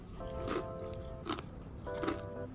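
Three separate crunchy bites into a freshly fried Indonesian peanut cookie (kue kacang), each a short crisp crack followed by brief chewing, heard close and fairly quiet with no talking.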